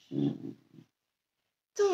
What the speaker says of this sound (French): les bruits étranges que vous pouvez entendre, c'est mon chien qui se prépare pour la relaxation guidée également